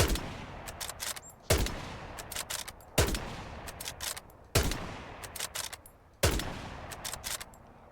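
Smelly rifle (SMLE) fired in Hell Let Loose at 50 yards, five sharp shots spaced about a second and a half apart, each followed by a rattling tail of echoes and impacts.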